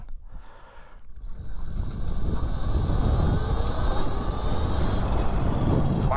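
A modified mini bike accelerates hard from a standstill to 30 mph, its engine building to a loud, steady roar that rises in pitch and stays close, with no talking over it.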